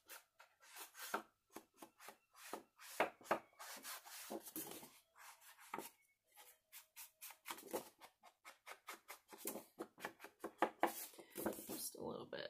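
A paper sack is scuffed and crumpled along its edges in quick, close rustling strokes, irregular bursts of scraping with short pauses, faint overall.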